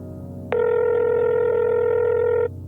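A phone call ringing in the video game Goddess of Victory: Nikke: one sustained electronic ring tone that starts abruptly, holds steady for about two seconds, then stops, over a low background hum.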